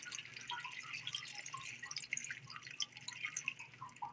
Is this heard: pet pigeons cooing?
no